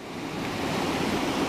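A steady, broadband rush of river water flowing along the East Lyn on Exmoor, continuous and fairly close, with no voices and no change in level.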